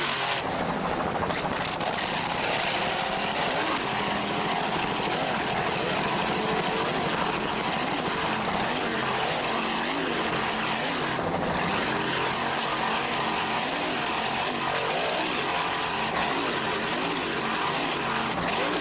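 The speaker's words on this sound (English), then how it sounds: "Just listen to Scott Langbine at the throttle" Racing powerboat at full throttle in an APBA national points race, its engine roaring steadily and loudly throughout with a dense, unbroken drone and no pause.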